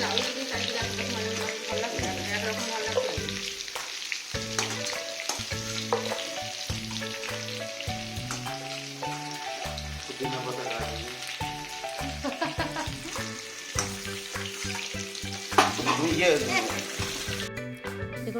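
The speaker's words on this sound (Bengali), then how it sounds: "আলু পেঁপে ভাজা হয়ে গেছে পেঁপেটা ভাজিনি একটু তেলে অল্প দিয়েছিলাম" Potato and papaya pieces frying in oil in a pan, a loud continuous sizzle and crackle with occasional stirring scrapes, running under background music throughout.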